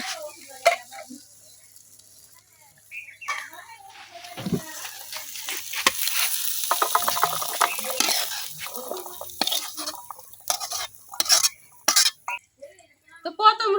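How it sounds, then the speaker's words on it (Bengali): Fried chickpeas are lifted out of a pan of hot oil for iftar. The sizzling swells and fades, with scraping stirs and sharp metallic clinks and taps scattered throughout. "বুট ভাজা হয়ে গেছে, এখন আমি উঠাই নিতেছি।"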